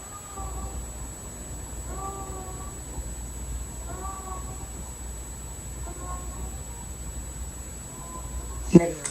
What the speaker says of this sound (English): My fucking cat.